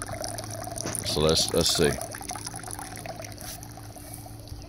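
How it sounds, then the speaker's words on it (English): Water trickling and pouring from a hose on a 4x4 solar hot water heater with heavy-wall half-inch tubing, hooked to a bilge pump: a steady watery flow throughout, with someone speaking briefly over it. "it's not much water coming out because the solar works in conjunction with the box"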